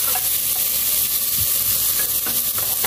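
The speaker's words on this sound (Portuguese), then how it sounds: "a gente já pode colocar nossa carne moída aqui pra fritar" Ground beef frying with onion and garlic in a hot pan gives a loud, dense, unbroken sizzle up close, with a few faint stirring scrapes and no voices.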